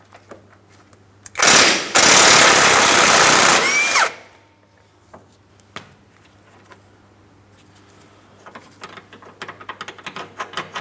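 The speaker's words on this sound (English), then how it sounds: "I'm going to hold the bolt side with my 18mm wrench and use a 21mm socket over here." A power tool drives a 21mm socket to loosen the lower control arm mounting nut on a 2003-2007 Cadillac CTS, one loud whirring burst of about two seconds followed by faint clicks and taps.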